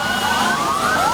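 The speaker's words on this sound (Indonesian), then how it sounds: "motor-motor petugas yang dikerahkan." Police motorcycles sound a wailing siren at a street protest, a loud, close, continuous rising-and-falling tone over steady traffic noise.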